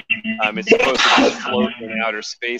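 A single sharp sneeze bursts out in the middle of a person's talking, loud and close, with speech going on before and after it.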